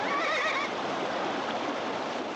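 A frightened horse team held by the reins gives a short whinny at the start, then a steady rushing roar of wind or water fills the rest.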